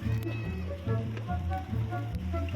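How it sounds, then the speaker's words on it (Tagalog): Heavy rain hisses steadily on surfaces outdoors by the senate building in Pasay City, with a low engine-like hum and someone talking over it. "Maulan. Ulan na. Lakas na ulan."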